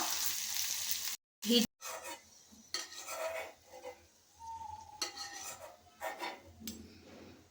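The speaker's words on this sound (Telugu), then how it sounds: "చిన్న కడాయి కదండి, అందుకనే అలా కొన్ని వేయించుకుంటున్నాను, నూనె వేస్ట్ కాకుండా." Okra fries in a little oil in a small kadai, a soft steady sizzle broken by close metallic stirring and scraping strokes, with brief gaps of near silence.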